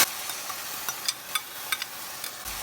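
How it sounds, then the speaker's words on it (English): Tomato puree hitting caramelized onions in a hot frying pan, giving a steady soft sizzle with a few sharp stirring clicks and scrapes spaced through it, close and fairly quiet with no talking. "I'm going to add the tomato puree."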